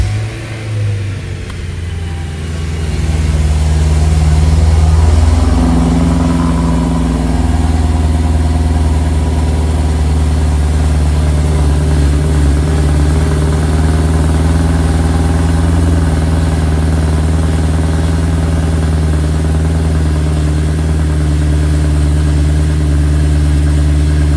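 A 2011 BMW E90 M3 sedan fitted with an M Performance exhaust cranks over and fires up, its engine swelling loudly to a rev before settling into a steady, deep, close idle with no talk.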